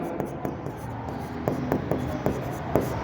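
Pen scratching across paper while someone works through a partnership accounts problem, with a series of short, crisp strokes and taps at an uneven rhythm, close and moderately quiet, no talking.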